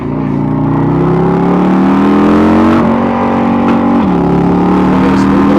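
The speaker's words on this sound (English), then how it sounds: "There's a little bit of a rev limiter on it." A 2024 Harley-Davidson Road Glide motorcycle engine revs loud and close, its steady drone climbing in pitch and cutting back sharply twice as it touches the rev limiter, with no talking.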